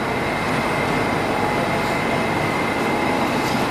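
Steady broadband rumble and rushing noise of a Moscow Metro train moving slowly, on the Rasskazovka–Vnukovo Airport section, loud and continuous with no distinct clacks or voices.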